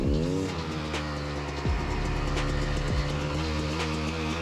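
An enduro motorcycle stuck in forest undergrowth revs hard and continuously, its engine note rising and falling in loud, close, strained bursts with no talk over it.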